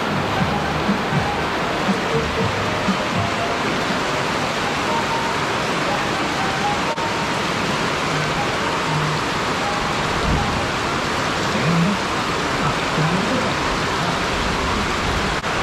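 Heavy rain pours down outside in a steady, dense wash that stays loud and unbroken for the whole stretch, with faint voices now and then beneath it.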